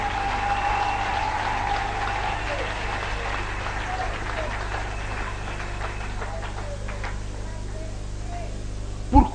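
A church congregation applauds and claps for Jesus during a Christmas sermon, with dense, sustained clapping and cheering that is moderately loud, slowly thins out, and ends with a brief thump.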